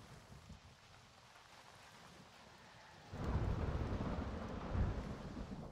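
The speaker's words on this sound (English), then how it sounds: "the rain like masks the sound" Rain falls in a video game, a soft rushing patter that swells suddenly halfway through into a heavier, rumbling downpour, moderately quiet with no talking.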